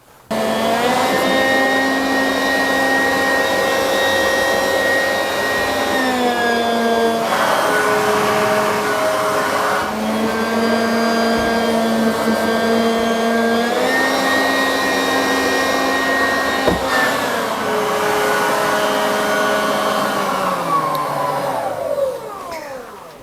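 A Hyundai cordless leaf blower runs in vacuum mode with a loud, steady whine that shifts pitch several times as the motor speed changes, then winds down at the end.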